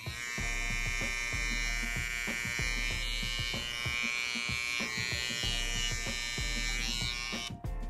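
A Babyliss Pro FX trimmer buzzes steadily and loudly up close, a constant high electric whine with small clicks and taps from handling, cutting off at the very end.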